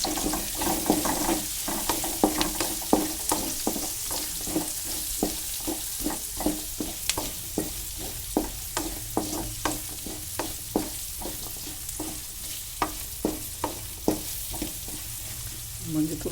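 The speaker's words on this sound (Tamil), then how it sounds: "மஞ்சள்தூள் போட்டு வதக்கியாச்சு." Onions and garlic sauté with turmeric powder in oil for garlic tamarind curry, with a soft steady sizzle and regular, evenly spaced stirring scrapes all the way through.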